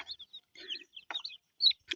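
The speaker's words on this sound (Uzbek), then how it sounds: "19 ta bo'ldi jo'jamiz." A hen in a coop with her nineteen chicks gives several short, soft clucks while the chicks peep in quick, high, scattered bursts nearby, with no talk.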